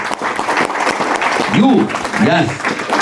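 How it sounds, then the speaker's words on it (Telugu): An audience claps in steady applause after a live devotional song with kartal playing, the clapping close and full for the whole stretch while voices call out over it. "And give the biggest Shiva."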